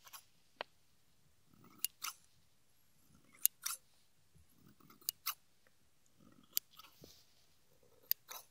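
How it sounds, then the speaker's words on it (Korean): Scissors trimming bangs in a close, quiet haircut setting, sharp crisp snips landing one at a time at irregular intervals, with soft rustling of hair between cuts. "조금만 더 짧게 잘라야 될것 같아."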